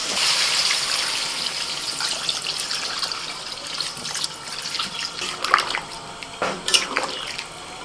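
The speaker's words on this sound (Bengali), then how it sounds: "আলু মাংস ভালোভাবে কষিয়ে নিয়েছি এবার জল দিয়ে দিচ্ছি" Water is poured into a pot of potato and mutton curry, a steady splashing stream at close range, with a few louder splashes near the end and no talk.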